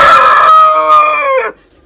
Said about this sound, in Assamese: এইটো হৈছে ৰেইনব' মুৰ্গী